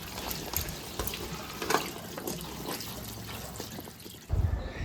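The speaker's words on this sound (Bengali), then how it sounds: "এবার আলুগুলোকে খুব ভালোভাবে জলে ধুয়ে নেব।" Water splashes and trickles close by as cut potatoes are washed in a kitchen, with steady running water, small drips, and a louder slosh near the end.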